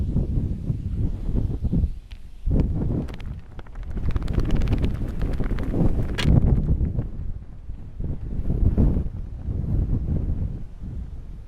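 Gusty wind on a golf course buffets the microphone in heavy, low rumbling bursts that swell and ease repeatedly, loud and close throughout.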